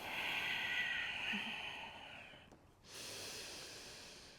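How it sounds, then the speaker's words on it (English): Slow, audible breaths drawn in and pushed out through the nose during a Rocket yoga flow, one long hissing exhale fading out followed by a quieter inhale, close and alone without talk. "Keep breathing in and out through your nose."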